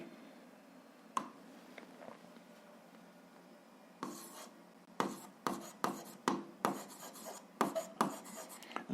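A pen writes algebra on paper, a soft scratching that starts after a few seconds and turns into a run of short, rhythmic strokes and taps, quiet and close with no voices.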